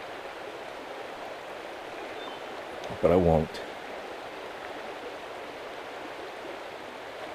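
A forest stream at a campsite in Allegheny National Forest flows with a soft, steady rushing hiss, with someone briefly speaking over it midway.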